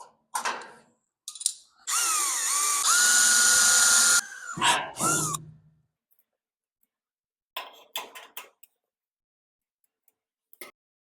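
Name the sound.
drilling 1/8 inch holes in headlight bucket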